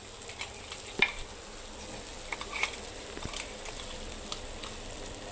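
A ground paste of green chili, ginger, garlic and coriander fries in a pan for an egg bhurji, a continuous close sizzle with occasional clicks and soft stirring scrapes.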